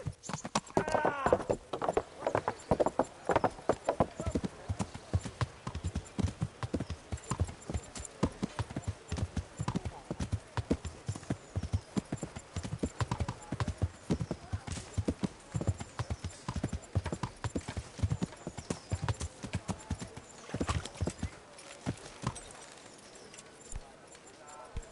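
Horse hooves clip-clopping in a steady, rapid rhythm with a brief whinny near the start, continuing for a long stretch at moderate volume, in a PS4 video game.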